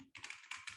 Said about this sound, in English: I can start typing here.